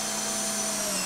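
A power saw cuts off a wooden post bracket while building a terrace, a steady loud whine running throughout the short stretch.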